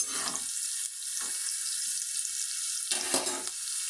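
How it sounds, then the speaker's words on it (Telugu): Chopped onion and green chillies fry in a pan for a brinjal gongura dried prawn curry, giving a steady high sizzle with a few louder bursts of crackling. "ఒక్క నిమిషం ఉల్లిపాయ పచ్చిమిరకాయ మగ్గనిద్దాం"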